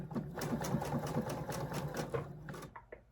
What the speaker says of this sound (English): I'm going to sew along here